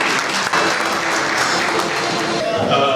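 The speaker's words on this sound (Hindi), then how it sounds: "तालियों से आपका स्वागत करते हैं सर।" Audience applause at an industrial convention panel session, steady dense clapping from a large crowd sustained throughout, loud and continuous with no break.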